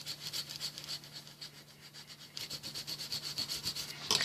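Paper burnished down onto an altered composition notebook, a steady rhythmic rubbing and scraping close by, with repeated strokes that grow slightly louder and quicker toward the end.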